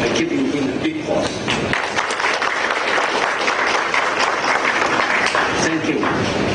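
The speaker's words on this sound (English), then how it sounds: "welcome Dr.Robert David Steele by giving him a big applause" A seated audience applauds to welcome a guest speaker, Dr. Robert David Steele, at a formal Thai forum; dense, steady clapping fills the whole span at close range with a faint voice briefly over it.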